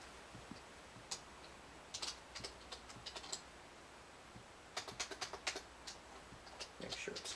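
Keys tap on a computer keyboard in quiet bursts, short clusters of light clicks separated by pauses, faint and close over a low background hum.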